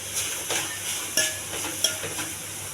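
Beetroot mixture dry-roasting in a pan with no oil, stirred with a spatula: soft repeated scrapes and light sizzling, with a few sharper clinks of the utensil against the pan, close and steady, no voices.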